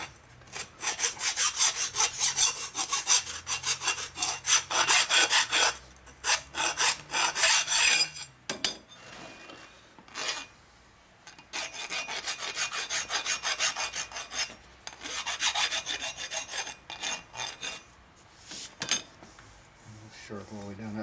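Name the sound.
filing to deburr a motorcycle engine case part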